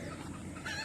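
Chickens clucking nearby on a farm, a steady busy chatter of several birds with a brighter call rising near the end, no talking.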